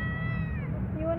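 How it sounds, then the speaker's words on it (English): A cat in Kennedy Park in Miraflores, Peru, gives a drawn-out meow, close by and clear over a low background hum and faint speech. "And look at the cat."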